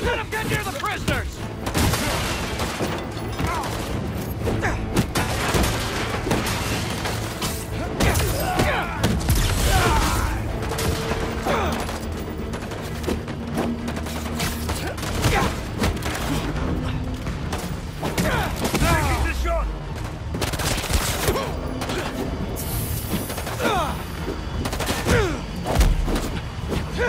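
Dense gunfire rings out in the Spider-Man 2 video game during a fight with the Scorpion monster, with booms and thuds layered over a constant loud battle din and music, while voices shout orders.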